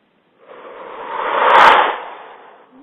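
One long, forceful breath pushed out through the mouth, swelling to a peak and trailing off, close and alone.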